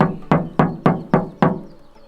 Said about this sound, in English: Let's do the knock test.